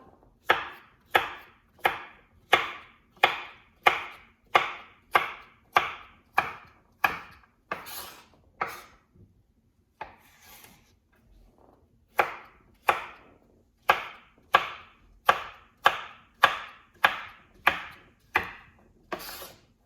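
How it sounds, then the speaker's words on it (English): A knife chops zucchini and squash on a cutting board in a home kitchen, giving close, crisp, evenly spaced thuds in two long runs separated by a brief quiet pause. "so we've got our zucchini and our squash chopped up"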